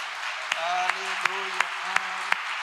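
Church congregation clapping in praise at a Pentecostal-style sermon, a steady rhythm of single claps roughly every third of a second, fairly faint under sustained sung or spoken voices and a held organ-like tone.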